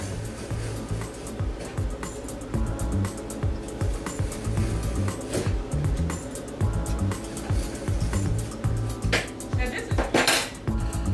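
Metal fork dragged along the sides of a fresh cucumber in a kitchen, giving a steady run of close scraping and rasping strokes with a few sharper clicks of cutlery on a dish.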